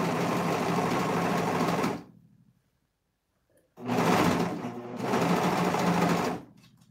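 A sewing machine stitches through four layers of fabric while a tee is being sewn, running in two close, loud bursts of steady whirring with a quiet pause between them.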